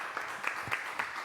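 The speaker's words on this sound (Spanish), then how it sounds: "Un fuerte aplauso" Brief applause from an audience at a book presentation, a short spell of scattered clapping at moderate level.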